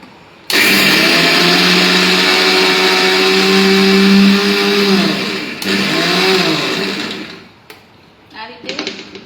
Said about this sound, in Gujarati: આ રીતે 1 થી 2 વાર મિક્સરમાં ફેરવી આ રીતે ક્રશ કરી કચરું રાખવાનું છે.